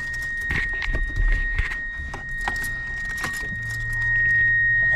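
Subaru Vivio RX-R kei car being started, with keys jangling and close interior clicks first, then the small engine catching into a steady low idle hum near the end.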